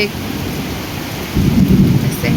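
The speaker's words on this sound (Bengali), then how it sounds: "আকাশে কীরকম গর্জন হচ্ছে" Deep thunder rumbles and swells over the steady hiss of heavy rain.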